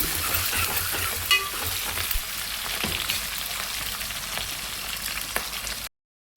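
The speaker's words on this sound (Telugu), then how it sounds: "చిన్న మంట మీద వేగనిస్తున్నామండి" Steady crackling sizzle of spices and curry leaves frying in oil on a low flame, a continuous close hiss with occasional soft stirring scrapes, then it cuts to silence at the end.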